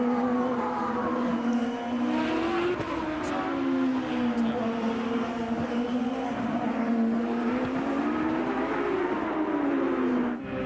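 A Champ Car race car engine at the 2004 Denver street race, a continuous high-revving drone rising and falling in pitch through gear changes and throttle, heard from onboard with no talk.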